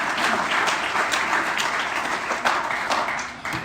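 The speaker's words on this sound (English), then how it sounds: "If we can give Tanya a round of applause for the work that you're doing for the Parks Chamber" Steady audience applause at a State of the State address by an Illinois state representative, many hands clapping at once in a dense, continuous wash that holds for several seconds without a break.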